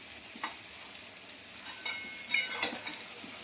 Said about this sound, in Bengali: হালকা ফুলকা মতন ভাজা হয়ে গেছে, আমি এবার পনিরগুলো তুলে নেব।